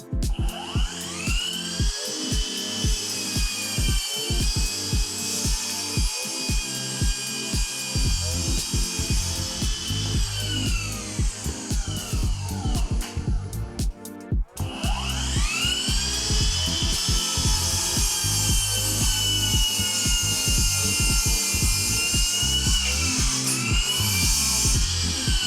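A Ryobi cordless miter saw whines at high pitch as it cuts through wood in two long passes, with a short pause between them and steady clattering mechanical noise underneath, loud and close.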